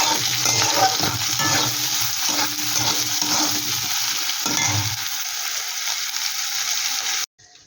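Potol paste with onion, garlic and green chilli, over a black cumin tempering, fries in a pan with a dense, loud sizzle and stirring scrapes that fade into quieter crackling before a short cutoff.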